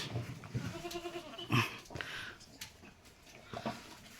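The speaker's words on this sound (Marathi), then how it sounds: "बघा शेळ्या कशा आवाज झाल्या आपल्या" Several goats bleat close by in short, wavering cries, one after another, with some rustling and thumps from the animals moving around.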